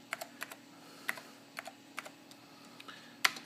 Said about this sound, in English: you type in the command gunzip,